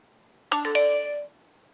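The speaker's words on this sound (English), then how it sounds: "if you're used to the original Twitter notification boring sound" Original Twitter push notification sound on an iPhone: a single bright three-note chime with rapid ascending tones ringing out cleanly for under a second in quiet surroundings.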